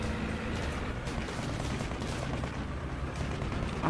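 A tank firing at passing planes in War Thunder: dense, continuous bursts of rapid gunfire that carry on loudly throughout, with no speech.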